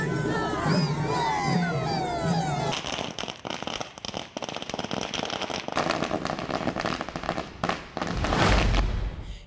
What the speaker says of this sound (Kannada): ಜೊತೆಗೆ ಪಟಾಕಿ ಸಿಡಿಸಿ ಬೆಂಬಲಿಗರು ಖುಷಿಪಟ್ಟಿದ್ದಾರೆ